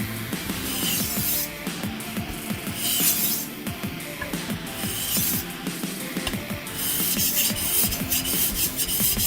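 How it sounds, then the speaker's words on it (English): Kitchen knife drawn across a 1000 grit sharpening stone in rapid, precise strokes, a steady rasping scrape repeating throughout, fairly close and continuous with no talk. "The knife was in good condition, just not sharp, so I started straight on my Sharpening 1000 stone."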